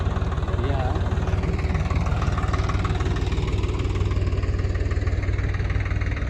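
A tractor engine runs in a potato field at harvest, a steady, fairly loud, close chugging idle that holds evenly throughout.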